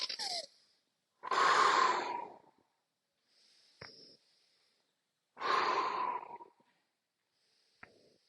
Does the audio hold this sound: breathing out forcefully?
yes